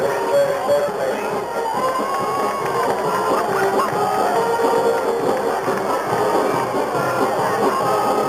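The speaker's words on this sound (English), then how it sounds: "There's those cheerleaders cheering for these touchdown boys." Cheerleaders and a stadium crowd cheer at a 1991 high school football game between Pocahontas and Ridgecrest. The steady, fairly loud babble of voices and shouts runs throughout, with no single dominant call.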